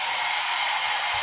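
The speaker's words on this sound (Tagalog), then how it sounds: "Ayan, binoblower na. Ang late na ating blower." A blower roars steadily, drying a dog's thick fur after a bath: a loud, close, continuous airy whoosh with no talk over it.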